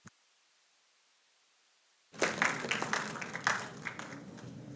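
Audience applause at an agricultural conference award ceremony: after a brief silence, a room full of people breaks into sustained, fairly close clapping that stays steady to the end.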